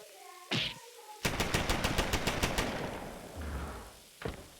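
A machine gun fires a rapid burst of about a dozen sharp, evenly spaced shots, loud and close. Short bangs and clatter come just before and after the burst.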